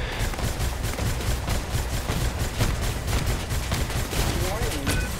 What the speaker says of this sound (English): I'm just like barely dodging those turrets.